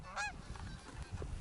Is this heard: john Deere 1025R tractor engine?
no